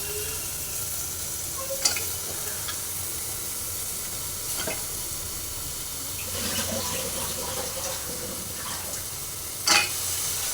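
Bitter gourd gravy sizzles steadily in hot oil while a spoon stirs it, with occasional sharp scrapes and clinks against the pan over the continuous frying hiss.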